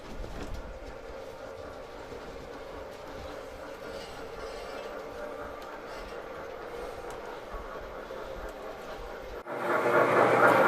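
A model train runs on a layout at a model railroad club, a low steady rumble with faint rail clicks. It rises into a louder, brighter rush near the end.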